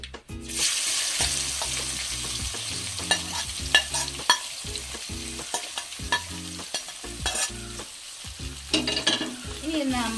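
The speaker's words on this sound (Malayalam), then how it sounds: "ഇനി നമുക്ക് ഇതിനകത്തോട്ട് നമ്മൾ കട്ട് ചെയ്ത് വെച്ചിരിക്കുന്ന സവാള ഇടാം" Chopped onion frying with mustard seeds in a pan, giving a loud, continuous sizzle with frequent spoon scrapes and stirring clatter.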